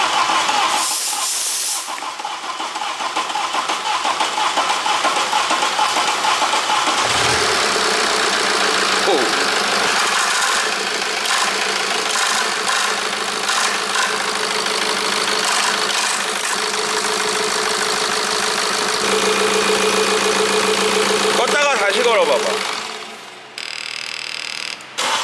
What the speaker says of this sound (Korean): 떨긴 하는데 인젝터가 좀 중고 상태로 오래된 상태라 그래서 떨릴지도 모르기 때문에